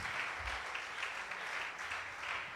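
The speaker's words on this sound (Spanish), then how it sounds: "Le aplaudimos con toda la fuerza de nuestro corazón al Señor." Congregation at a church service applauding together, a steady wash of many clapping hands sustained throughout without a break.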